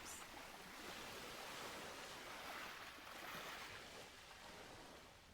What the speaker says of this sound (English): You're enjoying the peace that comes from listening to the waves.